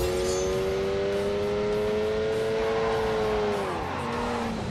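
A Lamborghini in a racing video game drifts with a sustained, steady engine drone and tire squeal, its pitch holding level and then dropping sharply near the end.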